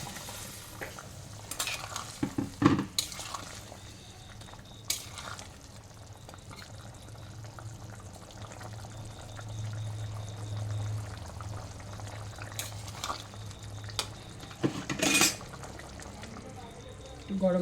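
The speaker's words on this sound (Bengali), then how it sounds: "ঝোলটা ফুটে গেছে, এখন ধোকাগুলো দিয়ে দেবো।" Dhoka pieces go into a boiling curry gravy and are stirred, giving soft bubbling and sizzling with scattered clinks and scrapes of a spoon against the pan, moderately close and without talk.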